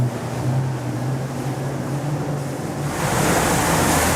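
Choppy Solent water rushes and slaps against a motor yacht's hull as it speeds along, with a steady low engine drone and wind noise. No voices.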